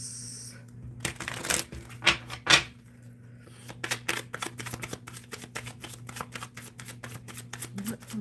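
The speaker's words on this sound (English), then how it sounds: "Spirit, I am shuffling for the collective" A tarot deck being shuffled by hand, heard as fast bursts of papery riffling and card snaps, at first in a few separate loud flurries and then in a steady run of crisp clicks over a low background hum.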